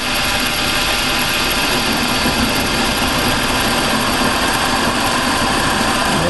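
A mini lathe runs at a steady, loud motor whine while it centre drills a metal workpiece, a continuous hum with no change and no talking.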